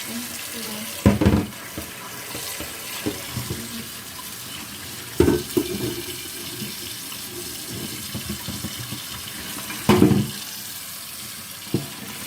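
Tap water runs at a kitchen sink during washing up, with bursts of splashing around the start, middle and end over a steady trickle.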